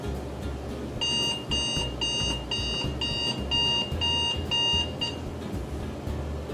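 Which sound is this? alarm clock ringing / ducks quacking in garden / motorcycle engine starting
alarm clock ringing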